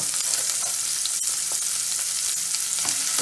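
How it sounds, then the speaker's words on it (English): Chopped onion frying in hot oil on medium heat, a loud continuous sizzle and crackle with faint stirring ticks, close and steady for a few seconds. "My oil is all heated, and now I'm putting in my onion. Fry up a little bit."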